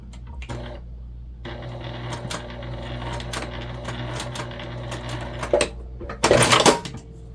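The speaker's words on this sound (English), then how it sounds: "I can go ahead and throw a top stitch in it" A sewing machine runs a top stitch along a fabric pouch, a close, steady motor hum after a short pause, ending in a louder clatter of handling.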